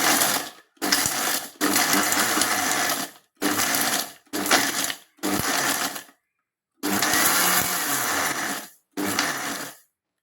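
An electric mixer grinder pulverizes eggshells into powder in loud, rough whirring bursts, switched on and off about seven times with short silent gaps between them, and no voices are heard.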